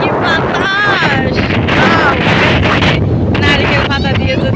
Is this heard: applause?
no